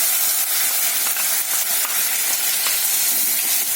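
Onion, ginger, green chilli, cumin, coriander and turmeric hit hot oil for a rohu fish curry, giving a continuous bright sizzle with faint crackles.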